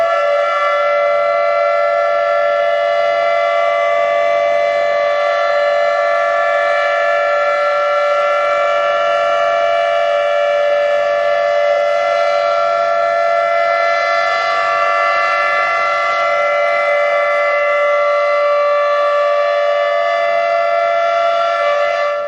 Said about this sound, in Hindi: मनपा ने सायरन बजाकर मौन श्रद्धांजलि देने की सूचना जनता को दी